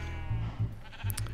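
Minecraft sheep bleat in short low nasal bursts, four of them spaced unevenly over a quiet background, with a few soft clicks near the end and no talking.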